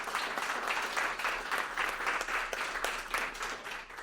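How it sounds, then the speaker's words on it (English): A conference audience gives its guests a sustained round of applause at a Pride celebration event, dense steady clapping from many hands filling the room at a fairly loud, even level without letup. "Can we just get a round of applause for all three that are up here today?"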